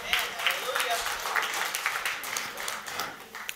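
A church congregation claps hard and steadily together, a dense rattling patter that fills the room, while faint voices come through underneath.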